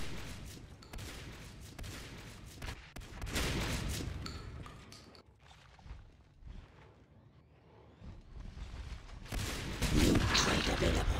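Shotgun blasts and other weapon fire from the multiplayer shooter Natural Selection 2, sharp bursts clustered into loud bouts with quieter gaps, under a commentator's voice.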